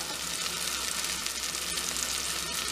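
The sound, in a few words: basil and cumin seeds sizzling in pan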